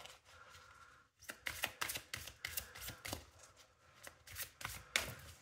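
Oracle cards are shuffled close by in a quick series of crisp riffling bursts with short gaps between them, with no voice over them.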